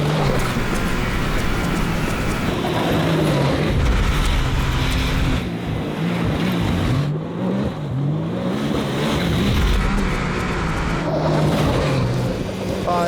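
Can-Am Maverick R side-by-side pulls hard through its gears at full throttle, engine note rising and dropping with each shift, loud and close under rushing wind and road noise.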